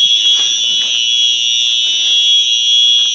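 A Simplex 4903 fire alarm horn-strobe sounding during a test, a continuous loud piercing electronic tone held steadily throughout, with faint background noise beneath.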